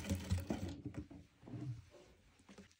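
A sewing machine runs in short, uneven bursts of rattling mechanical stitching while double-stitching a fur hoodie, close and fairly loud, then slows into quieter clicks.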